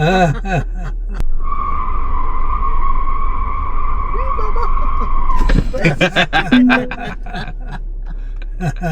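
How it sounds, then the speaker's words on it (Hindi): Mercedes G-Wagon spinning in place, its tires skidding in a loud sustained squeal for about four seconds between bursts of excited talk from passengers inside the vehicle. "कभी देखा है आपने गाड़ी को ऐसे ही मुड़ते हुए?"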